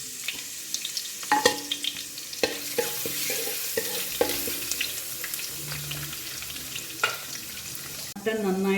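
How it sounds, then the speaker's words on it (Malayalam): Mutton and crushed garlic frying in a pan while a spoon stirs and scrapes, giving quiet sizzling broken by repeated clinks and knocks, with a brief splash of water near the end. "ഇത് നന്നായിട്ടൊന്ന് വറുക്കാം. അല്ലി വെളുത്തുള്ളി ചതച്ചത് ഇതിലോട്ടിടാം."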